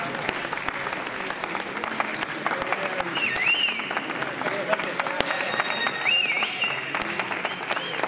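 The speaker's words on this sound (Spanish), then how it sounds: "Un fuerte aplauso." Audience applause fills a poultry and pigeon show award ceremony in a hall, a steady dense clapping that carries on throughout at moderate level, with brief voices and a faint whistle-like tone rising above it.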